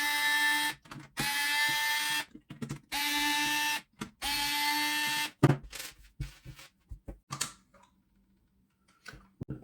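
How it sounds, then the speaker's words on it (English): A powered screwdriver backs screws out of a Parkside PAAD 2 B1 cordless LED light during a teardown: four short whirring bursts, each about a second long, followed by scattered light clicks and handling noises, then near silence. "we've got another 4 screws inside."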